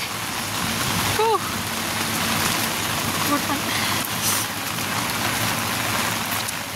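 Heavy rain pours down steadily in a dense, continuous hiss, with a brief faint voice breaking through near the start.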